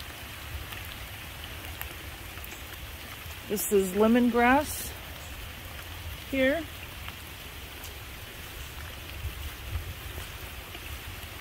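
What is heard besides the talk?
rain falling on garden goldfish pond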